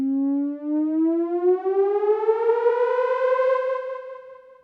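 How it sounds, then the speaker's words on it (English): Synth riser built in Phase Plant, one steady tone that glides upward in pitch while its filter gradually opens and the sound brightens, loud and alone, fading at the end. "Another common effect for risers are filters, so let's add a filter next. And I want this to open up as the sound progresses."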